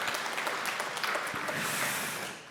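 A Korean Sunday church congregation claps to encourage an elder, producing a continuous, crackling wash of many hands at moderate loudness for a couple of seconds before tapering slightly.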